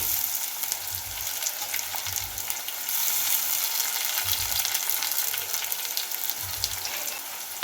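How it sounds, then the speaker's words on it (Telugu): Cumin seeds and crushed garlic hit hot oil in a pan, giving a continuous close sizzle with a few low bumps as the spoon moves, while tomato and dried shrimp curry is prepared. "మనం వెల్లుల్లి దంచుకున్నాం కదా, వేసేస్తున్నా జీలకర్ర వెల్లుల్లి"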